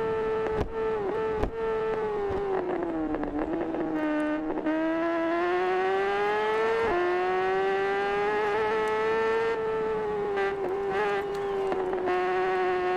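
Motorcycle engine revving at high pitch through corners on the Clypse Course in the video game TT Isle of Man Ride on the Edge 3, a continuous loud whine that rises and falls, with no talking.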